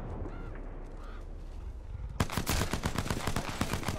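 P2020 pistol fire in Apex Legends: a dense run of sharp, rapid gunshot bursts starts abruptly midway and continues loud to the end, after a quieter stretch of game ambience.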